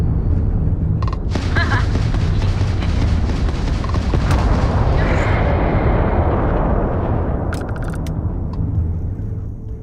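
Spaceship torpedoes launching in a Starfield space battle, a loud rushing roar and rumbling booms that swell then fade, with brief sharp clicks and a voice talking over part of it.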